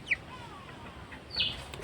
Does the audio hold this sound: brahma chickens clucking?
yes